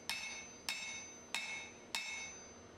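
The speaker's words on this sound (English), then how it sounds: "You want to use nice, heavy, even hammer blows to make sure that the start of the cheeks are the same width." Four heavy, evenly spaced hammer blows ring out on hot steel while a folded hatchet is forged, each strike a sharp metallic clang followed by a brief ringing decay, with no voices.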